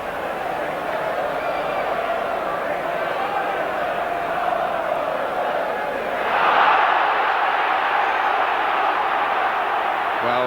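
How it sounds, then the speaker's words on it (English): Football stadium crowd at an FA Cup semi-final, a steady distant roar that swells in a brief surge of reaction to a tackle, heard from far across the ground under commentary. "The crowd on the far side reacted to the tackle"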